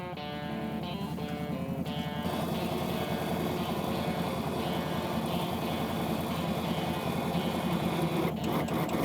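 An ATV winch hauls in rope with a steady mechanical whine and motor hum, joined by the engine's light throttle, running continuously and close by.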